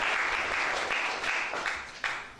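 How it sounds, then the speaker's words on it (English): An audience at a public speaking lecture applauds themselves, a short burst of steady clapping with a few sharper claps standing out near the end. "Round of applause for yourselves"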